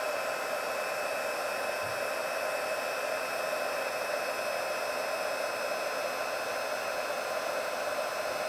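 A heat tool blows a steady, loud hiss of hot air to heat-set embossing powder on sticky Versamark ink during a winter-themed stamping class, an even roar without pauses and no talking.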